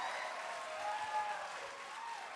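Audience applause at a California 13th Congressional District debate, a steady wash of clapping lasting the whole stretch at moderate level with no speech over it.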